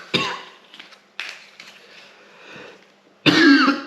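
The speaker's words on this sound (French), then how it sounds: "ça tousse, j'espère que vous allez bien, vous n'êtes pas malade" A person coughs in a quiet room, three separate bursts, the last one loudest and closest.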